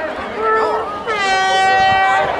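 A loud, sustained air horn blast sounds up close at a mass cider-pouring world record event in Gijón, 2009, starting wavering and then holding a steady blaring tone for about two seconds.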